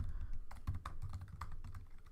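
Close typing on a computer keyboard while writing Java code, with a quick burst of distinct clacking keystrokes in an irregular rhythm and no voice over them.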